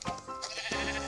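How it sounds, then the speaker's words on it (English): Sheep bleating in the Minecraft video game, several short wavering bleats close up, one after another across a brief stretch with no talking. "Get back here, Mr. Sheep!"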